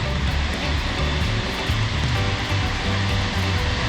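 Mae Surin waterfall thunders close by, a loud, steady broadband roar of rushing water with no pauses, filling the whole scene without talk.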